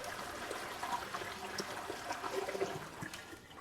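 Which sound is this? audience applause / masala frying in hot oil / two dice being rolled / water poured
water poured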